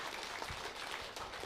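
Audience applause from a large crowd at a Mongolian talk show, a dense steady wash of clapping throughout the short moment with no talk over it.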